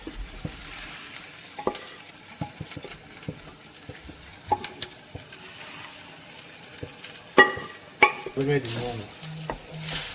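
Hoisin pork frying in a pan, with steady sizzling and repeated scraping, clinking stirs against the pan over about ten seconds; a few louder utensil knocks come near the end.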